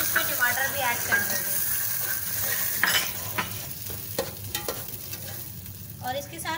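Chopped onion and tomato fry in a pan with cumin, giving a steady sizzle broken by scraping stirs and clinks of the spoon. The sound stays close and fairly loud, and no one talks.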